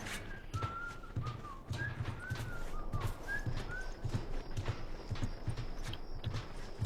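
A melodic whistled tune rises and falls over steady clip-clop hoofbeats of a horse in The Last of Us, with repeated short phrases up close and no talking.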